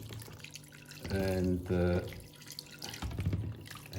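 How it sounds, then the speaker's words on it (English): Tap water runs into a container in a kitchen, a steady close stream with shifting pitch as it fills, while someone speaks over it. "We just carefully fill this up with water. This is tap water."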